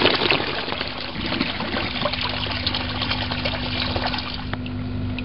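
Water drains through a homemade bell siphon built from two plastic bottles, a steady close trickle and gurgle with a low constant hum underneath, running continuously without a break.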